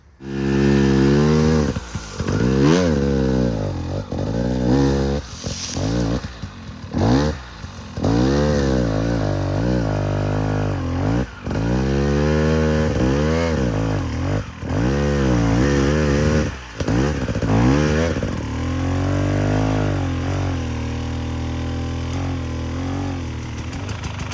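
A KTM 300 two-stroke enduro motorcycle climbs a hill line, its loud close engine revving and dropping repeatedly in a raspy, buzzing wail as the rider works the throttle.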